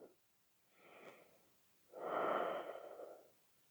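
Person breathing during a gentle yoga hip-lift pose: a soft inhale followed by a longer, louder breathy exhale, close and alone with no talk.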